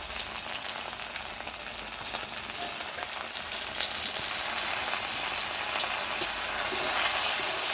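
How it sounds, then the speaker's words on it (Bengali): Spices with turmeric, salt and ginger-garlic paste fry in a pan with a steady, dense sizzle that builds slightly toward the end, close and continuous with no talking. "বন্ধুরা মশলাগুলো ভাজা হয়েছে,"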